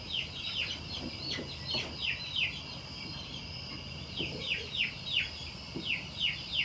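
Several chickens fuss and cluck on their first night in a roosting room, with repeated short calls overlapping at moderate distance against a quiet indoor background.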